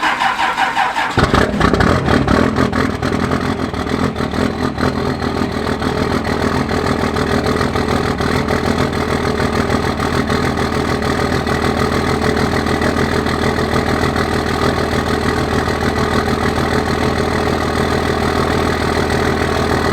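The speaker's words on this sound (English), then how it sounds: "we got the truck started" A truck engine cranks and catches after a jump start, then settles into a loud, steady idle that runs on unbroken, close by.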